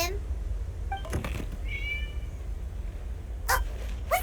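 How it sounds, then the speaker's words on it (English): A cat in the video game Genshin Impact gives a short meow, then a second brief cry a moment later, both heard faintly over a steady low background hum. "It was just a cat."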